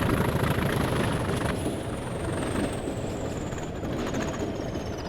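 A Class 20 diesel locomotive engine in Train Simulator throttles up, a loud, steady droning rumble with a rising high whine that runs without a break, close and alone with no talk.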